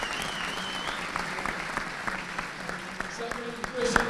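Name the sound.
audience applause after a schools rugby cup final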